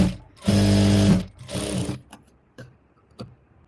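Domestic sewing machine stitching blouse fabric with a quarter-inch seam, two loud close bursts of fast whirring run separated by a pause, followed by faint clicks and handling.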